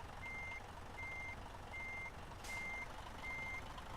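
Reversing alarm of a truck in Euro Truck Simulator 2: five evenly spaced steady beeps over a constant low engine rumble, with a short hiss of air partway through, no voices.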